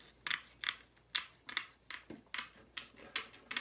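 Crisp metallic snipping of tin snips cutting wire mesh, about ten short cuts in a steady rhythm, close up with no talking.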